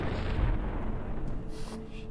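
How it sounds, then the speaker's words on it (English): A rocket fired at the player in Fallout: New Vegas, Lonesome Road DLC, lands as a heavy booming blast, loud and close, with a rumbling tail that carries through the short stretch. "Oh no, he's about to shoot a rocket at me."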